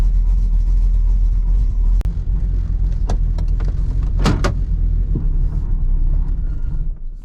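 A car engine idles steadily while warming up to burn off oil, lacking idle air control, giving a loud, constant low rumble up close, with a few clicks and knocks over it.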